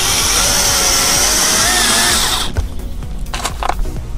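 A power drill drives self-drilling screws on a small building job, a loud steady high whine for about two and a half seconds that stops abruptly, followed by quieter handling clatter.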